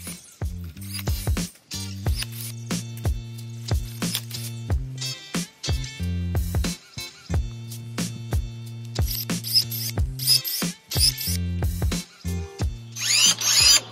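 Battery-powered pruning shears with a safety system cut through garden material in a rapid series of short motor whirs and snips, loud and close, with brief pauses between cuts.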